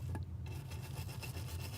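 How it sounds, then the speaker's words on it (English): A small handheld drill brush, used by hand, scrubs flux off a printed circuit board wetted with window cleaner, a steady quiet rasping rub in short back-and-forth strokes, no voices. "I'm using a little bit of window cleaner and a little drill brush"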